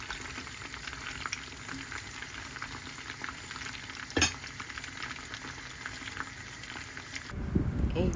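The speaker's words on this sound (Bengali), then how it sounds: "আমি এদিকে চিকেন উইংসগুলো ভেজে" Chicken wings fry in a pan, giving a steady soft sizzle that fills the whole stretch, with a single sharp clink midway. The sizzle gives way to a louder, rougher noise near the end.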